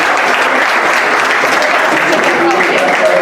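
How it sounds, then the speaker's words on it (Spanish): A whisky tasting audience at a women-themed event in a whisky museum breaks into dense, steady applause lasting the full few seconds, loud and continuous with a faint voice underneath. "Un aplauso."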